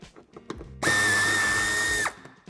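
Power tool driving out Torx 25 screws from the right wheel arch of a 2013–2017 Škoda Octavia III five-door, a single loud high-pitched whir lasting just over a second, preceded and followed by faint handling clicks.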